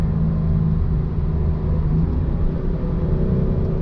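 A Porsche 993 with an upgraded exhaust idles continuously with a steady, throaty rumble, a low, deep exhaust tone and a slight whirring hum.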